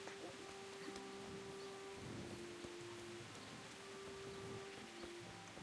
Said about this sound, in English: And it's raining like crazy.